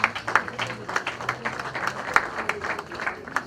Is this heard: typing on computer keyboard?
no